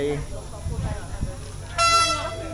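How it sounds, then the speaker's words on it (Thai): A train on the Death Railway in Kanchanaburi, running along a cliff edge above a river, gives a distant horn blast partway through, after faint rumbling and a few murmured voices. "เสียงแป้น ๆ มาแต่ไกล"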